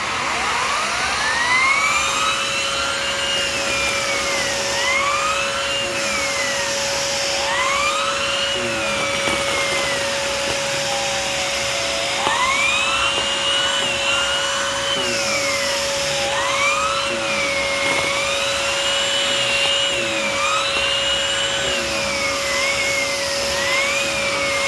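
A loud, continuous Simplicity Cinch vacuum cleaner whine with a steady tone, its pitch sweeping up and down repeatedly as the power nozzle moves over a chair.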